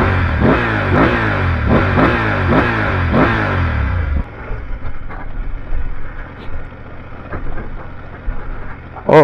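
A 2023 BMW F850GS Trophy adventure motorcycle engine revs up through the gears in rising, wavering surges for about four seconds, then drops to a low idle-like rumble with faint clatter, recorded up close.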